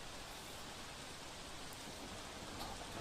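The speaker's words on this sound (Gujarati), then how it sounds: "સુરત જિલ્લામાં મોડી રાતથી ધોધમાર વરસાદ વરસ્યો છે" Heavy overnight rain pours down in Surat district, Gujarat, a steady, even hiss of downpour with no breaks, moderately loud and unchanging, with no voices.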